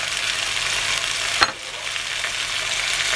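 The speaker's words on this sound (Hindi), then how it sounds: "अब मैं इसमें ऐड कर दूँगी टमाटर," Onions and garlic frying in a pan as tomatoes are added, a constant close sizzle with one brief sharp burst midway, no talking.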